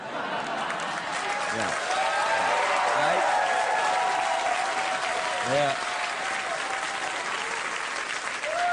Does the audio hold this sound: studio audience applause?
yes